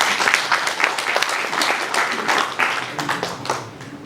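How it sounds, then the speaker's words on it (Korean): A church congregation at an elders' association installation service applauds a newly inaugurated president, a moderately loud burst of steady hand clapping that fades slightly toward the end. "박수로 한번 쳐주십시오."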